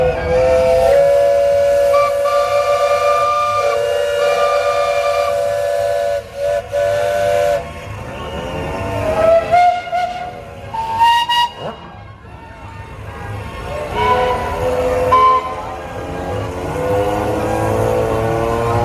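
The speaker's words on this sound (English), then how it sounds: "Would anybody like to blow a whistle?" Steam whistles blown during a steam fair parade on a hot afternoon, loud sustained blasts, some held long and some short, with pitch bends and gaps, over hissing steam and faint crowd voices.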